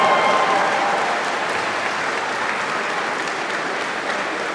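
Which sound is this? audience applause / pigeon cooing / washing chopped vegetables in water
audience applause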